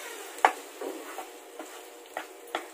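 White sauce being mixed into pasta, heard as a handful of soft, wet stirring strokes and light scrapes at a close, quiet level, spaced irregularly with no talking.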